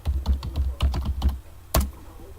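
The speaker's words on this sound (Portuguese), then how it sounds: "vou digitar a senha para entrar" Close, crisp keystrokes on a computer keyboard tap out a password in an uneven run of about eight presses, then one sharper final key like Enter, with no voices.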